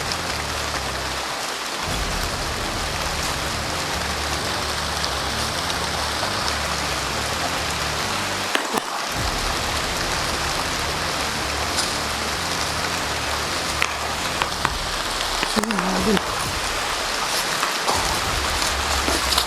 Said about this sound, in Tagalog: Sobrang lakas na ulan.